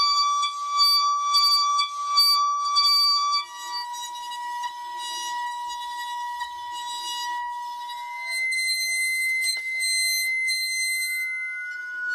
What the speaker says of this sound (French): Quand on frotte avec l'archet, le sel est soulevé à l'endroit où la plaque vibre et une figure apparaît